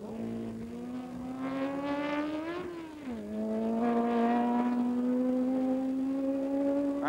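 Historic Tecno single-seater race car on the Montlhery banking at a historic Grand Prix, engine droning steadily at high revs, dipping briefly mid-pass then holding a loud sustained note, no talk.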